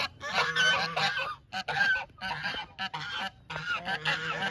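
A curly-breasted Sebastopol goose honking loudly and repeatedly in harsh, nasal bursts with short pauses between calls, close by.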